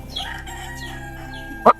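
Farm chickens kept together in a cage give a short burst of fowl calls and crowing near the end of a brief stretch, over a steady low hum and faint background murmur.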